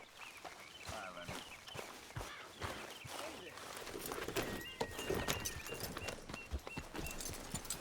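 Horse hooves clip-clop in a steady walking rhythm while riding in Red Dead Redemption 2, faint and continuous under soft background ambience, with voices talking.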